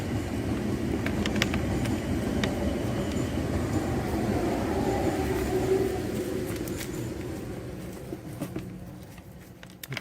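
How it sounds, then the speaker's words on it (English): A passing train rumbles steadily in the background of an outdoor garden, a loud continuous roll of wheels and cars that slowly fades toward the end. "Excuse the train."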